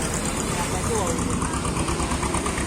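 An Activa scooter engine runs steadily through floodwater after days of rain in Manjalpur, a continuous low rumble with splashing wash throughout, under people talking nearby.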